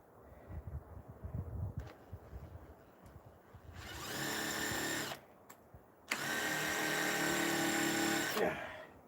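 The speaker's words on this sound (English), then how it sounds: "I think I may have burned my brushless motor. May have been too hard on the drill that time." A brushless power drill straining against a stubborn screw in old wood from a front step, two sustained whining bursts of about a second and two seconds, close and loud, after a stretch of quieter scraping and handling noise.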